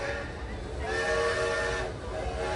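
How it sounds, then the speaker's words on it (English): A train waiting at a railway station platform, its long whistle or horn tone sounding steadily for about a second over a low rumbling background, fairly quiet and distant. "Last boarding for the train to Musbro Junction"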